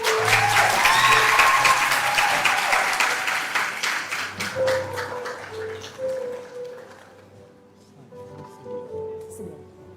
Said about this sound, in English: Let's continue the applause for Liana.